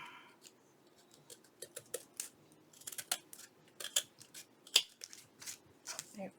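Scissors snip through paper for a handmade journal, a series of short, crisp cuts at irregular intervals, close up and fairly quiet, with small rustles between snips.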